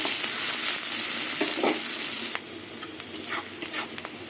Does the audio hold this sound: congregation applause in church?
no